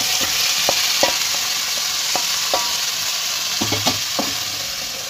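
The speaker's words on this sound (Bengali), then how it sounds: "এবার ম্যারিনেট করা চিকেনটা আমি এতে দিয়ে দেবো।" Marinated chicken sizzles as it fries in a pan with browned onions. The sizzle is a loud, steady hiss, and a utensil scrapes and stirs through it now and then.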